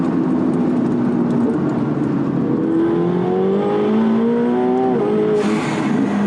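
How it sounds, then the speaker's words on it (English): A 900 hp McLaren 720S engine climbs loudly as the car accelerates hard, the tone rising through successive gear pulls, then a sharp whooshing burst near the end, heard close from inside the car. "I'm not even like letting it rev out all the way, because this thing is just so freaking scary."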